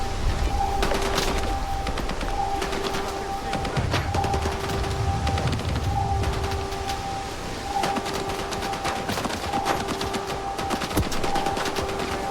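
Gunfire rattles through a STALKER 2 firefight in repeated bursts and scattered single shots, loud and close, carrying on without pause over a low background rumble.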